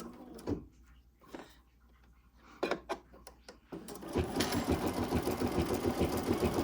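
An embroidery sewing machine stitches elastic onto a small notebook cover in the hoop: a few scattered clicks and taps, then the machine starts up into a dense, steady rapid whirring that continues to the end.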